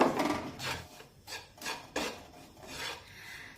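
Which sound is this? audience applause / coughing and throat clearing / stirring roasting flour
stirring roasting flour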